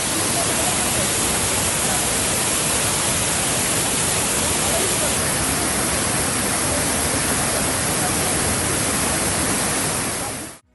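A monsoon waterfall in Uttara Kannada pours as a dense, unbroken roar of rushing water, loud and constant from start to finish before cutting off abruptly.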